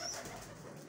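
A pigeon gives a short, soft coo, close by and fairly quiet, with no voices, at a pigeon club's loft.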